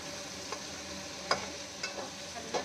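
Paneer and capsicum fry in a pan, giving a soft steady sizzle with a few brief stirring scrapes and clacks scattered over a quiet base.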